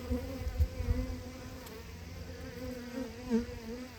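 Honey bees at a beehive, some carrying mites, produce a faint, steady droning buzz with a slight wavering pitch and no voices over it.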